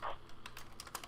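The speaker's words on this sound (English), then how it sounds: "She's typing." Quick, irregular keystroke clicks on a keyboard over a low background hum, a short burst of typing with no voices.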